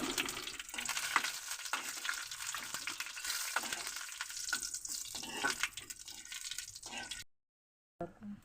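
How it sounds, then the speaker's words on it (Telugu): Tempering spices sizzle and crackle in hot oil, a loud, dense frying hiss with irregular pops and spatters up close, running steadily before cutting abruptly to silence near the end. "తాలింపు వేసేటప్పుడు మాత్రం దూరంగా ఉండాలి లేకపోతే ఆయిల్ మీద పడిపోతుంది"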